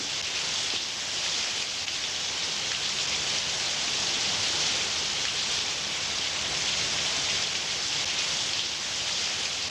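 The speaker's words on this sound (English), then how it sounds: "if we get in out of the rain" Steady outdoor rain pours down with a dense, even hiss, loud and unbroken throughout, with no voices over it.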